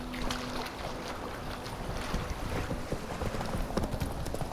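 Geralt's horse Roach galloping in The Witcher 3: Wild Hunt, rapid steady hoofbeats under a rushing wind-like bed, continuous and fairly loud.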